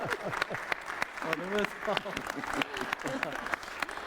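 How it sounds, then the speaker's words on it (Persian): Audience applause rises as steady, close clapping, mixed with overlapping voices talking over it throughout. "آقایون تشویق بفرمایید لطفاً"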